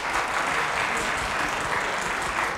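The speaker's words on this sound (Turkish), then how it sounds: "Bak daha Sivaslıyım dedi alkış alıyor" Audience applause at a Turkish television show, a dense steady clapping wash sustained for a couple of seconds, fairly loud and uninterrupted.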